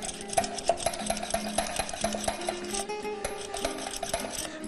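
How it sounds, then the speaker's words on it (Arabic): A spoon stirs sugar into a lassi mixture with quick, regular scraping and clinking strokes against the bowl, close and fairly quiet, with no talk. "من بعد تنقن نحرك هذا، نخلط هذا الخليط كله بحال هكذا"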